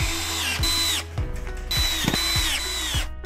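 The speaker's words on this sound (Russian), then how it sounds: "Уголок крепится вровень с торцом царги на саморезы из комплекта фурнитуры." A power screwdriver drives self-tapping screws through corner brackets into a "Barcelona" 160x200 cm double bed frame, with close, loud whirring bursts and ratcheting clicks in quick succession.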